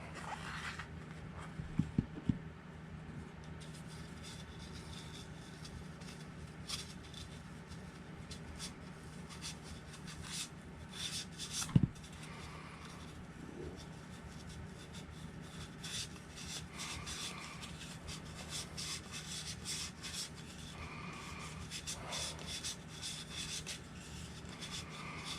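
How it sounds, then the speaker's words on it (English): A Scotch-Brite pad scrubs the tires of a TLR 22SCT converted into a no-prep RC drag car, making a steady, close rubbing rasp that continues throughout, broken by a few louder knocks. "watch me scrub tires with a Scotch-Brite pad."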